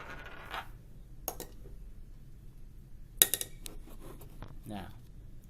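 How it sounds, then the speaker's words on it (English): Solid marbles drop into a glass of water, giving a few sharp clinks and splashy knocks against the glass, close and fairly quiet, with a voice speaking around them. "Also, these marbles are solid. I'm going to drop those in there too."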